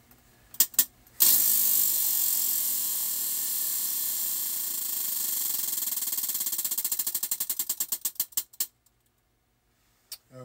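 A prize wheel spins with a loud, steady ratchet clatter that starts fast and continuous, then slows into distinct, widening clicks before stopping, with a few stray taps before and after.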